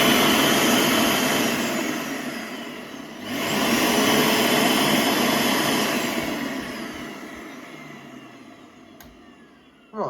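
A Mitsubishi Jet Towel Mini hand dryer runs with its nozzle removed, the exposed motor giving a loud, steady whining roar that dips briefly, then slowly fades as it winds down, ending with a click.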